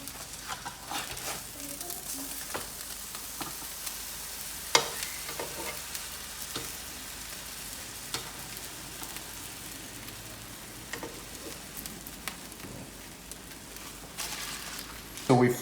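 Kimchi grilled cheese sandwiches sizzle in a frying pan, a soft, steady crackle with scattered small pops, moderately quiet and close, with a few louder clatters near the end.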